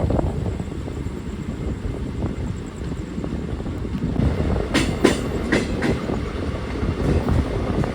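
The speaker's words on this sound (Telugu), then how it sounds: "మన ట్రైన్ అయితే ద్వారపూడికి అయితే వచ్చింది, బయలుదేరిపోయింది" The 17243 express train pulling out of a station, heard from inside as a constant rumble that builds, with clickety-clack wheel beats growing sharper and more frequent partway through. No talking.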